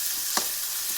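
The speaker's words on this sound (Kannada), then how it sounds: "ಈರುಳ್ಳಿನ ಚೆನ್ನಾಗಿ ಫ್ರೈ ಮಾಡ್ಕೊಳ್ಳಿ" Onions fry in a pan with a soft, steady sizzle, joined by one brief scrape or stir midway; close and fairly quiet, no talking.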